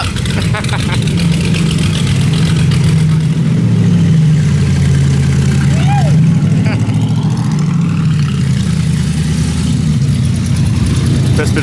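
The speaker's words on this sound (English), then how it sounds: "Rev it up." Supercharged Y-block engine in a 1932 Ford roadster roaring steadily at high revs, loud and close, with a brief rise in pitch midway.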